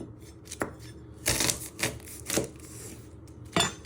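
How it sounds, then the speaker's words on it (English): A knife chops through a vegetable on a board for chorizo and tomato spaghetti. There are a few distinct, crisp cuts spaced unevenly at close range, with quiet room tone between them. "Then you chop it down the middle."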